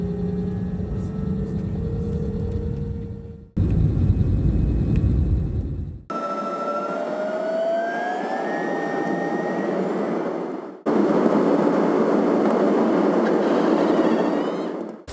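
A loud, constant roar of airplane cabin noise, a steady engine drone with faint tonal whines, heard in a few abruptly joined stretches.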